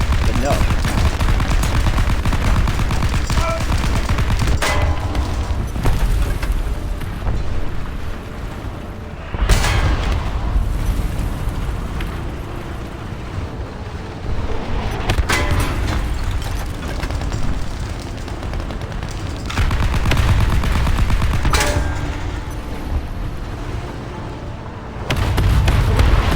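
Sustained tank cannon fire and explosions from the mobile video game War Thunder Mobile, aimed at a Calliope Sherman: loud, dense rumbling bursts recurring every few seconds over a constant roar of battle.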